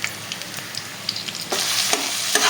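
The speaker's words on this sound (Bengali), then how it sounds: "পেঁয়াজগুলো ভাজা ভাজা হয়ে এলে এর মধ্যে দিয়ে দেবো টমেটো কুচি" Chopped onions and tomatoes sizzling and frying in a pan, a steady crackle with scraping stirs and sharper bursts of hiss toward the end; no talking.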